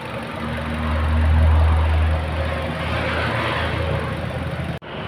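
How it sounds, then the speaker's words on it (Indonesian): A 2024 Suzuki Grand Vitara GX Hybrid automatic idles with a smooth, steady low hum that holds evenly, broken by a short sharp knock just before the end. "Kita cek mesinnya, mesinnya halus banget"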